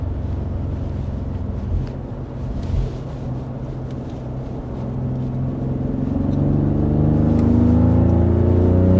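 A 2023 BMW X3 M40i rounds a corner, its engine a steady low drone with road and wind noise that swells and rises in pitch toward the end as it accelerates out of the turn.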